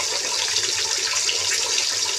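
Tap water runs steadily over parshe fish being washed in a sink, a continuous close broadband splashing rush with no pauses.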